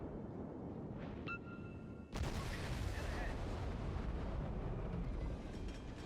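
Izyaslav ship artillery shelling enemies in World of Warships, a sharp blast followed by rumbling, sustained gunfire and explosions, preceded by a short beep.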